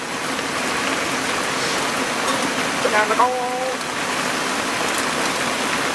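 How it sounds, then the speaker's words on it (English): Heavy rain in Sweden pours down in a steady, dense hiss, with a brief spoken phrase near the middle. "That's brutal rain."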